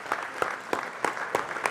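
Applause from an audience honoring 2024 varsity wrestling lettermen at a school gathering, heard as a moderately loud, fairly sparse patter with several sharper claps standing out in a rough rhythm.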